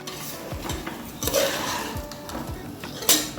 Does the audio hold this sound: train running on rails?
no